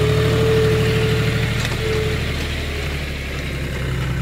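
A 4x4 tractor's diesel engine, a 50-45 D model, works steadily nearby while lifting soil, a constant low rumble with slight variation in load and no speech.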